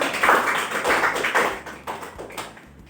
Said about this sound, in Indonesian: Kita beri aplaus untuk kita semua